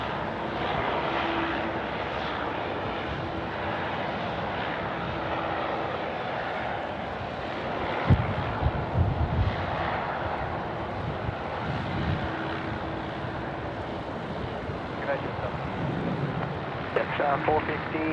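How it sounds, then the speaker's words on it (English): Jetstar airliner rolling for takeoff on runway 34 left at Sydney Airport, heard from a distance as a steady engine roar mixed with wind buffeting on the microphone, with people talking nearby. "Jetstar now rolling, runway 34 left"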